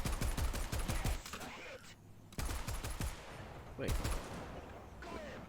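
War Thunder gunfire: rapid automatic bursts of loud, close shots in rattling volleys, pausing briefly between strings, with a player speaking briefly over the shooting.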